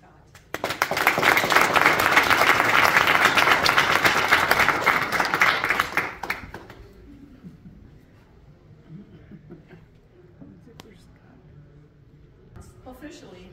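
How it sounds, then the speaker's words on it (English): A courtroom audience at a judge's swearing-in ceremony breaks into a full round of applause that builds quickly, holds loud for several seconds and then fades to scattered murmurs and quiet room noise. "if we can please give a round of applause to Supervisor Rex Scott."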